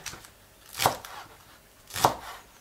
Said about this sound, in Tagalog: Hiwa tayo ng onion spring. Ito po yung leaves niya.